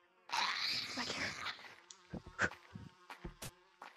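Bees in a video game give a close, rising buzz that fades into scattered short buzzing bursts and clicks.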